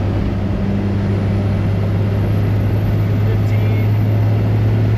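A Cummins diesel-swapped squarebody Chevy Suburban makes a boosted pull while shifting toward overdrive. A loud, continuous engine and road drone fills the cab throughout.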